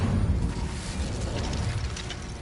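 A fire spell cast in Hogwarts Legacy: a steady, close roar of rumbling flame with crackling bursts, sustained evenly for a couple of seconds with no talk.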